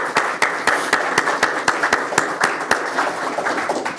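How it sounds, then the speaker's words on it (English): Steady rhythmic hand clapping from an audience at a town hall meeting, loud and close, with sharp regular claps in unison that loosen into scattered applause toward the end. "Let's clap our hands for them"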